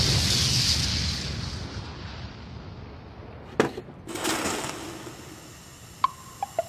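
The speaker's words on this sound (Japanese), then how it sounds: "爆発したわ。" A sudden loud burst goes off in a kitchen where rice porridge is cooking, followed by a rushing noise and a few sharp clattering clicks.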